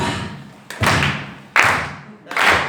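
Claps from a church audience clapping along, three loud, sharp hand-clap bursts spaced roughly evenly, each decaying into a reverberant tail, with no voices.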